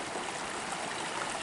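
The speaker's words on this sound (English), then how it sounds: "This is the same creek that flows by in front of my camp." A creek flowing past a remote cabin trail, a steady close rushing and babbling of water that stays even and constant with no voices.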